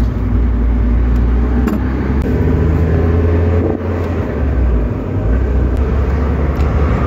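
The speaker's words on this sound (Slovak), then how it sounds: "Čo ako fajn znie ten motor" A 1.8-litre Mazda Miata engine runs steadily and loudly from inside the car, a continuous drone with a faint ticking from the valves underneath and no talk.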